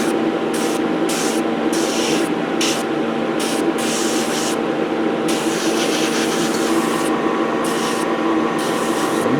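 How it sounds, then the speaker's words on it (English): Spray paint hisses in close, continuous bursts with brief gaps as blue is coated onto a 1/72 Bedford QL refueler model, including the wheel arches. "get some paint on it, lay some paint down"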